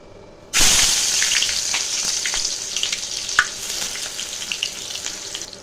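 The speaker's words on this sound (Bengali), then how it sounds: "কড়াই বসিয়েছি সর্ষের তেল, আর দেখো তেল গরম হয়ে গেছে। তো দিয়ে দিচ্ছি পেঁয়াজ কুচি" Chopped onion dropped into hot mustard oil in a kadai bursts into a loud, close sizzle that holds steady with light spattering crackles.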